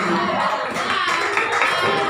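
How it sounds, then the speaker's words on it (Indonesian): Junior high students at a school orientation clap in short bursts on cue, a loose cluster of claps from a room of children, with brief voices around them. "Tepuk dua."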